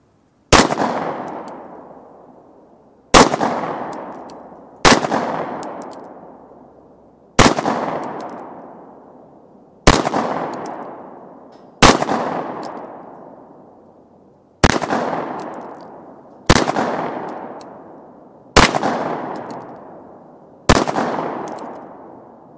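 An FN FNS-9C 9mm compact pistol fires at a shooting range, about ten sharp, loud, single shots spaced a couple of seconds apart, each cracking and then ringing out in a decaying echo, with no talking.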